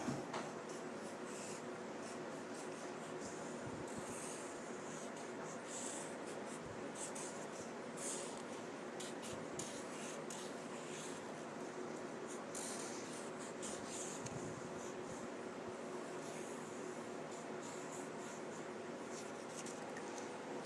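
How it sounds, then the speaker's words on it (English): A name written by hand on folded paper, making a faint, close scratching of pen strokes in short bursts across a quiet room, with no speech. "Now I'm going to write it again."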